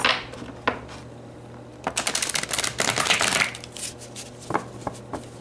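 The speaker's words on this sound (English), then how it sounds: "Let's pull you some more cards." Tarot cards being shuffled and drawn from a deck, close and crisp: scattered taps, then a dense riffling burst in the middle, followed by a few sharp single card snaps.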